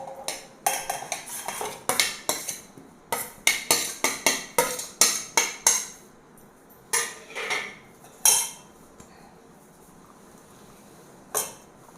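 A metal spoon clinks sharply against a bowl while salted raw mango is mixed for a Kerala Sadya pacha manga kichadi. The clinks come in quick rhythmic bursts, then thin out to a few isolated taps near the end, with no talking.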